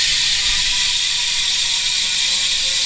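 Freewheeling rear hub of a Cruiser 450 MTB wheel on a lightweight rigid mountain bike, spun so it gives a steady, fast, close ratchet-like buzzing whir without pause.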